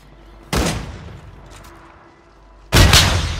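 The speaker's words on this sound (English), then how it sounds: "Sounds like he's getting shot at over there." Two loud bursts of gunfire in a Call of Duty Warzone Resurgence match, separated by a couple of seconds of quieter background noise.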